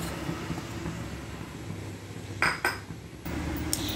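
A spoon stirs and scrapes barfi mixture in a pan over a gas flame, giving a low steady scraping drone with a few sharp metallic clinks near the middle.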